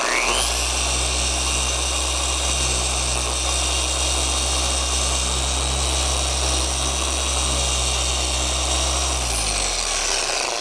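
A polishing machine spins a wet microfiber pad pressed flat, giving a loud, steady whine with deep motor hum that starts abruptly, holds constant for about nine seconds, then spins down near the end.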